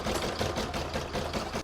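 An embroidery machine stitches decorative work across a fabric join on an in-the-hoop patchwork bag, a fast, steady mechanical whirring and clatter with a regular pulsing rhythm, close and continuous, no talking.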